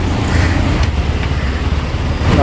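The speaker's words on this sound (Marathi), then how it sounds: "गाडी ऑन करूया" A motorbike engine runs close by with a loud, steady, low rumble that continues unbroken through the whole stretch. There is no talking over it.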